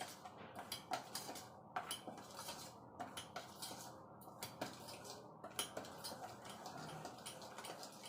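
Eggless vanilla sponge cake batter is folded in a bowl with a utensil, giving soft, rhythmic scrapes and light taps against the bowl roughly every half second, quiet and close.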